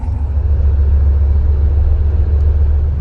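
Chevrolet Camaro SS running E85 fuel gives a steady, loud, deep engine rumble up close that holds even for about three seconds, with no talking.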